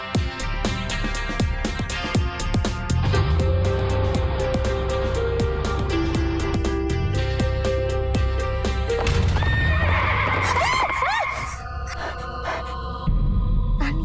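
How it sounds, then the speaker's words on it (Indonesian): A horse in a 2024 Indonesian horror film races past, giving loud neighs and whinnies over quick hoofbeats, all within a dense, continuous layer of other sound. "Tadi ada kuda lewat cepet banget."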